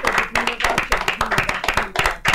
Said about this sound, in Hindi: आपकी तालियों की गड़गड़ाहट परमेश्वर के ध्यान को खींच रही है